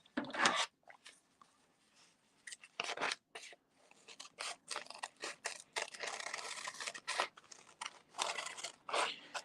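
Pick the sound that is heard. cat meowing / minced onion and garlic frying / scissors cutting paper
scissors cutting paper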